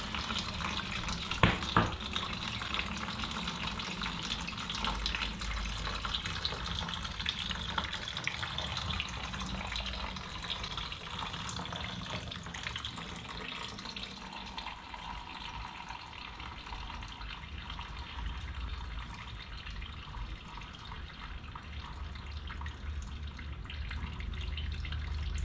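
Coolant draining out of a 1998 Kawasaki ZX9R motorcycle: a steady, faint trickle and splash of liquid running into a container, with occasional drips, continuing unbroken and without talk.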